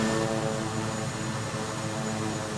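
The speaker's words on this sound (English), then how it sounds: "This plane is a Kodiak 100 made by Dare Aircraft." A Kodiak 100 turboprop plane made by Daher Aircraft, flying in a landing pattern, gives a loud, steady engine drone with a constant propeller hum that continues throughout, with no voices.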